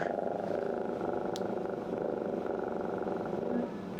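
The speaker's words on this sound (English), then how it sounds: "It starts vibrating and making an audible purr." A Purryfuls toy cat purrs and vibrates close up, a low continuous buzzing rumble that holds steady for several seconds before easing slightly.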